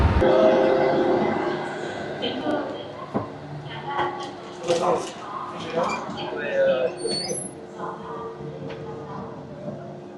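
Rumbling clatter of a passenger train in motion in Vietnam, heard from inside, with mechanical rattles and squeaks and a steady low drone; voices murmur underneath.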